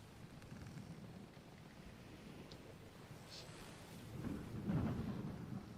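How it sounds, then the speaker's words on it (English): Thunderstorm ambience: a steady wash of rain and low rumbling thunder, with a deeper roll of thunder swelling near the end, fairly faint and without voices. "the storm is beginning to let off"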